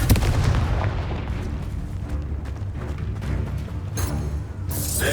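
Spell explosions in the video game Hogwarts Legacy, a dense run of loud booming blasts and crackling bursts that overlap with no pause, ending with a sharp bright burst.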